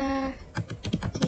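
Computer keyboard keys pressed during web server configuration: a brief tone fades, then a quick run of about eight close, crisp key clacks in an uneven typing rhythm.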